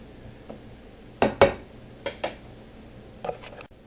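A metal lid goes onto a cooking pot of jambalaya: a pair of sharp clanks, then two lighter clinks and a final faint rattle, all close and alone in a quiet kitchen.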